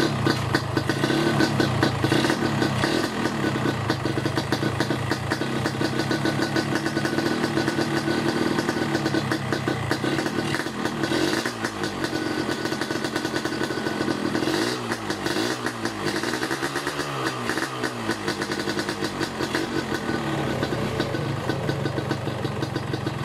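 A two-stroke Yamaha RX King motorcycle engine idles steadily with a buzzing, rattling tone throughout, close by, with a few slight throttle swells near the middle.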